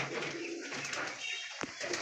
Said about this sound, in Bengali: এই যে পায়রাগুলো,